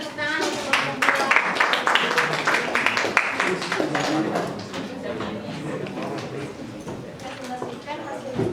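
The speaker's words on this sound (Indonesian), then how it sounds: "Kita berikan tepuk tangan untuk kelompok 2." Classroom applause for a student discussion group, a burst of many hands clapping in dense rapid rhythm that fills the first few seconds and then fades under ongoing classroom talk and murmuring.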